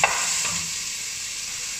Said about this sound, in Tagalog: Ayan, haluin lang natin.